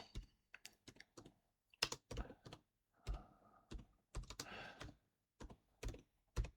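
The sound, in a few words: one-hand finger typing on a computer keyboard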